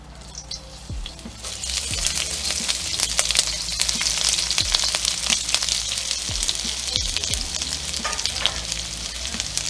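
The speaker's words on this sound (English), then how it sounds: "what we want to do now is add our onions to the oil" Onions frying in hot oil for a garlic honey shrimp stir fry with sugar snap peas, a steady loud sizzle with occasional stirring scrapes and pops, close and continuous without talk.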